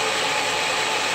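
A Traxxas RC truck engine runs at a steady, noisy drone close by, dense and even with no clear rise in pitch, heard alone without talk.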